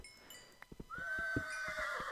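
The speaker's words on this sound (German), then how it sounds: "Immer die scheiß Pferde" Horses neighing in the video game Minecraft: a rising whinny stretches over soft repeated hoof clops, fairly quiet and heard alone.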